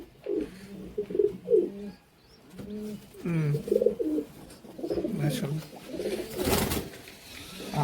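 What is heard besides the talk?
female pigeon cooing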